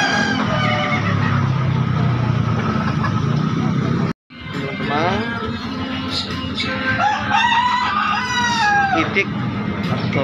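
Loud, busy poultry market in Makassar full of clucking from native village chickens and overlapping rooster crows, with a brief cut midway and crowing rising again afterward.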